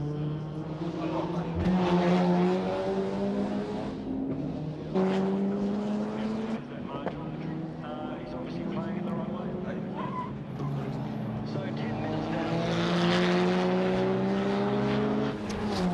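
Mazda RX-7 race cars at Surfers Paradise in 1995, their rotary engines whining loudly and rising in pitch as they pass near, with a commentator talking over the engine noise throughout.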